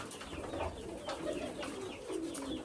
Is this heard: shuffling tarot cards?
no